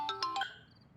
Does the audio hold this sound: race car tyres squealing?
no